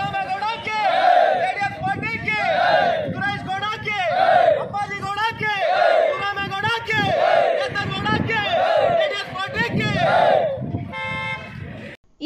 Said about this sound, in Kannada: ಜೆಡಿಎಸ್ ಪಕ್ಷಕ್ಕೆ ಜೈಕಾರ ಕೂಗುತ್ತಾ